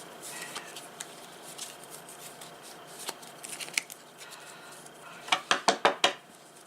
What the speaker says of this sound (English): do a quick shuffle.